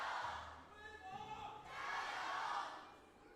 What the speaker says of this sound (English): Crowd's yelling.